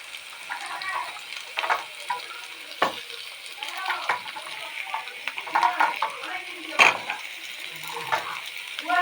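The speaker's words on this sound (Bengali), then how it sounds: "আলু আর সর্ষে ডাটা দিয়ে আলুটা ভাজি" Steady sizzling of potatoes and mustard stalks frying in a pan, with scattered stirring scrapes and clinks over the hiss.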